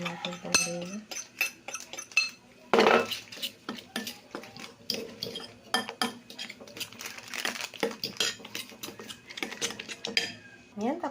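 Dulong fish, egg and flour are mixed in a bowl with a utensil, giving a busy run of close clinks, taps and wet stirring scrapes at an irregular pace, with a voice briefly audible at times.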